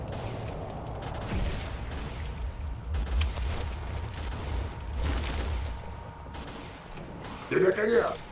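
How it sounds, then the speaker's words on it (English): Gunfire in the video game Oblivion Lost 2010, fired from a hand cannon: several heavy booming shots at irregular intervals over game ambience, with a burst of louder noise near the end. "In fact, I might as well get some use out of this hand cannon."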